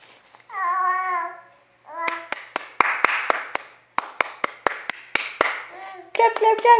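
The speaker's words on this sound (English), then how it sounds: "You do the clapping too?" A small child claps hands in short bursts of sharp, close slaps, some quick and irregular, between stretches of babbling and an adult voice singing and talking.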